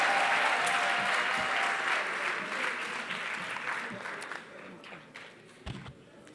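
Applause from a gala dinner audience, full and sustained at first, then thinning to scattered claps with a few louder individual hits as it dies away.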